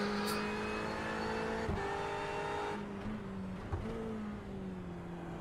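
A race car engine in iRacing at Road America drones and revs steadily, pitch shifting as it climbs and drops through gears, loud and continuous with no talking.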